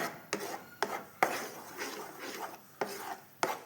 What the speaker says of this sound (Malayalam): ഇതാ മാങ്ങേൻ്റെ പൾപ്പ് ഞാനിതാ അടുപ്പത്ത് വെച്ചിട്ടുണ്ട്, ഇളക്കി കൊടുക്കുന്നുണ്ട്.